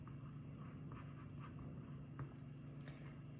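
Pen or pencil writing words on paper for a two-point perspective drawing lesson. Faint, continuous scratching strokes under a steady background hum.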